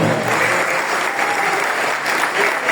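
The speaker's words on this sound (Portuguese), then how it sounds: "dá um aplauso aos pastores" A church congregation at a family worship service applauds the pastors, a dense, sustained round of clapping from many people filling the room evenly from start to finish.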